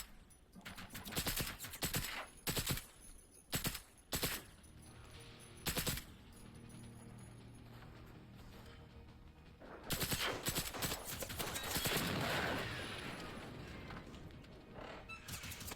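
Gunfire in the video game Generation Zero: repeated bursts of automatic fire and sharp shots in clustered volleys, loud and close, with a long sustained barrage near the end and brief talk in between.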